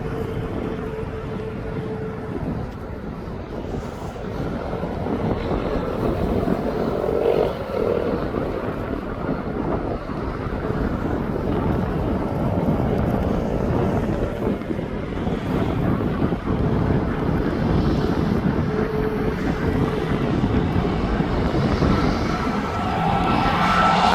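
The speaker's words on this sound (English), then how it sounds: "I'm back onto that TUI, it's off to Kos. That is a Max" A TUI Boeing 737 MAX 8 airliner departing East Midlands Airport, its engine roar building steadily into a loud, sustained rumble with wind buffeting the microphone.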